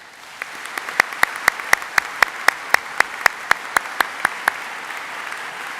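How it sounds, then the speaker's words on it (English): Clapping at a medical school white coat ceremony, after a music performance: a run of sharp, evenly spaced claps that sound close and distinct, over a soft background murmur. "Can we all have a round of applause for them?"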